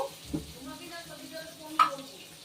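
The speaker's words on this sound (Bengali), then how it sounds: "দেখুন পেঁয়াজটা কিন্তু খুব বেশি ভাজবো না, হালকা ভাজলেই হবে।" Sliced onions fry lightly in hot oil in a pan while making hilsa fish leja bhorta, giving a faint, quiet sizzle with soft stirring scrapes and one brief louder clatter.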